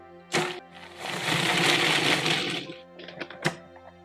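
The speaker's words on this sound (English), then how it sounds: "I'm just going to blend this until it gets like crumbs" A kitchen blender grinds plain oatmeal and walnut pieces into crumbs, a loud continuous whirring roar for about two seconds after a brief pulse, then short stuttering pulses as it winds down.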